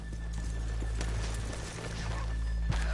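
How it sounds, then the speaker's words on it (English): Horses in the video game Red Dead Redemption 2 clip-clop on a road at a slow walking pace, the hoof taps fairly faint beneath a steady ambient background hum. "Let's leave the horses here off the main drag."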